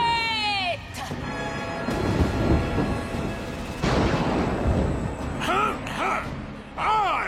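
Cartoon thunderstorm with loud rolling thunder crashes and steady rain, mixed with animated character voices and squeaky sound effects throughout.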